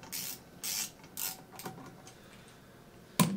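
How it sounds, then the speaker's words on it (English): Black screws being driven to hold a case together, a handful of short, separate ratcheting bursts at close range, spaced irregularly with quiet gaps between, ending in one sharper click. "As I screw these black screws and hold the case together"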